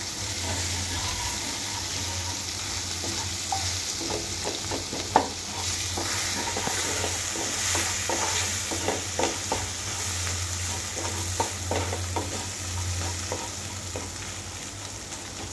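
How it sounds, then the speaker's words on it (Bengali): Dried loitta fish (Bombay duck) frying in plenty of oil, a continuous close sizzle with repeated scraping and stirring strokes and occasional clinks of the spatula against the pan. "তো এখন আমরা এই মাছটাকে একটু ভুনা করে নিব।"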